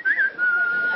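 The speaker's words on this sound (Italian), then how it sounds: "No, stai fischiando, dai fastidio." A person whistles a sustained, slightly wavering tone during an interview about Italian rap, close and loud, with a quick rising flourish at the start and a brief dip before the steady note resumes.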